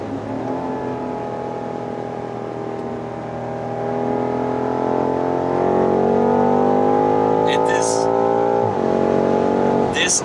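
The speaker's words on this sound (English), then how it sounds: "This 8-cylinder V8 twin-turbo engine is a masterpiece. What a sound!" Twin-turbo V8 of a 2019 BMW M5 F90 revving steadily, its deep harmonic drone climbing in pitch and loudness over several seconds before dropping off sharply near the end; loud, close and continuous.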